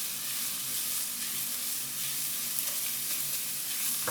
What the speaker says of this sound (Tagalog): Maggisa tayo ng sibuyas. Sunod naman yung bawang.